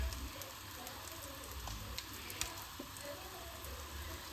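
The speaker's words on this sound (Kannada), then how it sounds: "ಮೀನನ್ನು ಚೆನ್ನಾಗಿ ಫ್ರೈ ಮಾಡ್ಕೊಳ್ಳೋಣ." Fish for a tava fry sizzles quietly in a little oil in a pan, a faint continuous hiss with scattered small pops and crackles, with nobody speaking.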